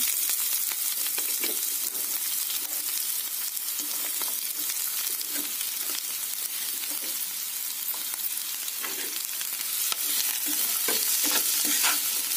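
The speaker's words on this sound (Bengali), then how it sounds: "দিয়ে নেব কুচি করে রাখা পেঁয়াজটা" Chopped onion dropped into hot oil with cardamom, cinnamon, dried red chilli and bay leaf, frying in a loud, dense, continuous sizzle with stirring scrapes throughout and no voices.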